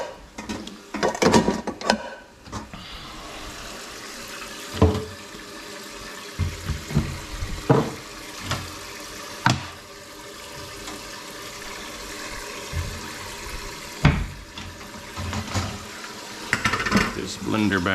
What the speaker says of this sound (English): let's go ahead and start washing these dishes.